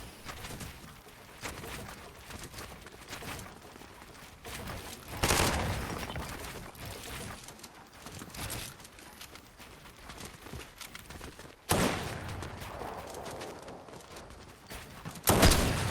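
Gunshots in the video game Fortnite during a build fight: sharp, loud bursts of fire break out in short clusters against a busy, noisy game backdrop, separated by stretches of quieter in-game activity.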